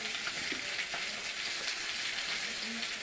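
Fish and vegetables fry in a pan with a steady, dense sizzle and crackle. The sound is constant and close, with soft stirring underneath and no speech.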